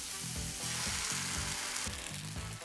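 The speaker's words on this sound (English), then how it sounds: "And I'm gonna put it in the pan in a zigzag form." Korean savory pancake batter, gluten-free and vegetarian, sizzles loudly in a hot frying pan with a dense, steady crackling hiss and faint rhythmic stirring or scraping underneath, close up and without voices.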